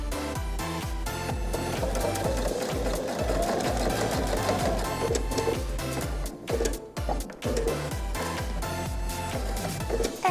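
A sewing machine edge-stitching a single welt pocket runs in a fast, steady mechanical rhythm, close and loud, pausing briefly near the end before starting again; no one speaks.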